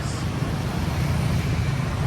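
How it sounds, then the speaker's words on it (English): Dense, unbroken motorbike traffic on a street in Ho Chi Minh City, a constant rumbling wash of engines close by with no gaps. "non-stop motorbikes"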